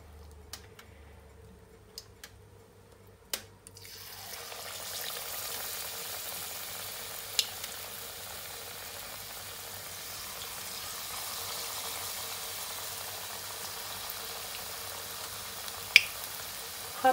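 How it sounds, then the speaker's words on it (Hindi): Chinese chicken pakoras drop into hot ghee after a few sharp clicks, then a soft steady frying sizzle builds and continues close by with occasional small pops. "अब हम लोग अपने जो है चाइनीज़ चिकन पकौड़ा इनको फ्राई करना शुरू करते हैं।"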